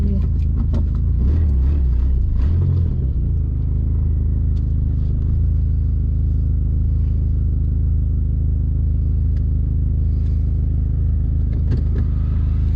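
A Dodge SXT car, just back together after a vacuum line install, rolls down a driveway on a test drive, with a steady close engine rumble that holds throughout and a rougher, louder patch near the start.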